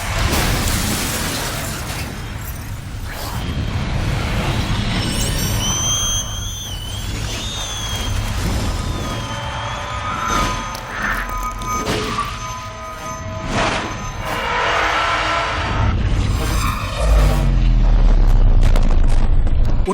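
Another action-scene explosion from the Hong Kong film Time and Tide comes as a series of booms, thuds and shattering crashes spread over twenty seconds. Whistling tones and a deep, heavy burst near the end run through the mix.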